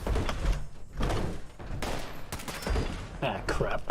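Gunfire in the video game Fallout 76, a series of sharp shots and bursts mixed with door-like thumps and slams, heard under speech.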